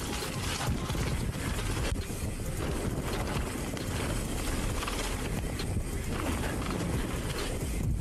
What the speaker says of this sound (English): You can really hear the wind whipping at this part.